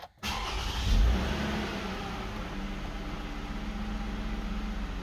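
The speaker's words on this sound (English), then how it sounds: "Start the car and let it run for 15 minutes." A Toyota Aurion/Camry 2GR engine runs steadily after starting, a continuous close engine drone with a brief swell near the start, then an even idle throughout with no voices.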